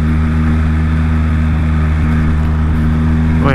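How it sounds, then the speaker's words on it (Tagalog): A Yamaha XSR900 motorcycle cruising at speed, its exhaust giving a loud, steady low drone with constant engine hum and no wind roar, rising in pitch at the very end. "yung tunog ng tambucho pero wala masyadong hangin at higher speed"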